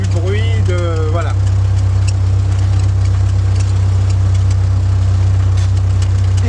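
An old Renault car's engine rumbles steadily and loud as it drives through a town centre, a constant low drone with a brief voice at the start.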